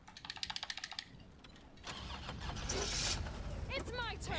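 A car engine starting up in the Resident Evil 3 video game: a rattling crank, then the engine catches into a steady, rising rumble, with players talking over the game sound.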